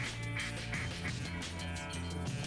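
Ducks quack in theHunter Classic hunting game among many decoys on the water, a dense, continuous flurry of overlapping quacks at close range, loud and busy with no talk.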